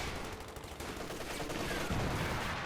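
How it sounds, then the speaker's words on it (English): Mortar blasts and MG 34 machine-gun fire in the video game Company of Heroes 2 form a dense, continuous wash of battle noise with rattling bursts and booms, fairly loud and without clear talk. "Mortars doing some damage there, troops being suppressed here by nearby MG 34."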